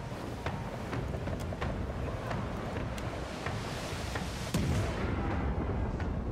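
Ship cannons fire during a naval battle in Pillars of Eternity 2, with scattered booms over a steady wash of wind and ocean surf, and a heavier blast near the end.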